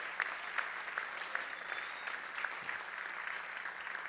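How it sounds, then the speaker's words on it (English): A concert audience gives a round of applause for Mark Kohler at a Berklee Groove School closing concert, with steady, fairly distant clapping that continues evenly for several seconds. "So I want to please give a round of applause to Mark Kohler."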